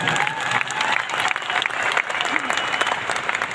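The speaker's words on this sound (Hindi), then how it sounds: "एक जोरदार ताली आप लोग अपने लिए बजा दीजिए।" An audience at a live speech event claps loudly and steadily throughout, a dense continuous applause with a crowd feel and a voice faintly mixed in.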